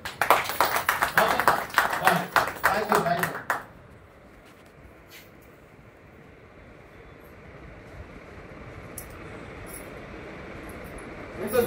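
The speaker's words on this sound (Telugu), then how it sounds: "ఒకసారి క్లాప్స్ కొట్టండి." A small audience bursts into brief clapping, dense and close for a few seconds before it stops abruptly. A quiet room tone and faint ambient noise follow.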